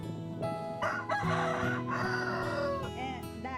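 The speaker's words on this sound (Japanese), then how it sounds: "鶏もいますね。" A rooster crows loudly and close by in rural Negros, Philippines, its drawn-out calls overlapping with clucking from other chickens nearby.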